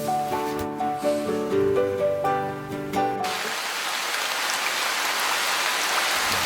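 Steady rain falling, a dense even hiss of drops that takes over after a stretch of music and continues alone to the end.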